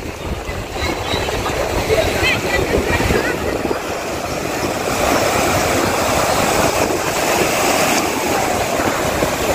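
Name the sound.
strong waves at a river estuary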